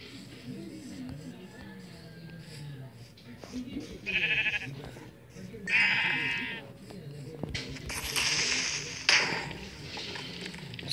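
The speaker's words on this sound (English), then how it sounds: "Is that a sheep? No. Oh, yes. Real sheep." Sheep in Minecraft Pocket Edition bleat in several short, separate bursts, close and fairly loud, while a person talks over the game sounds.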